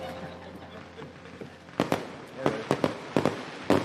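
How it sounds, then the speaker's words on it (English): Fireworks at a Walt Disney World nighttime show, heard from a distance: a string of sharp pops and crackling bursts in irregular clusters, fairly faint, over a low background hum with no one talking. "I'm just enjoying the fireworks."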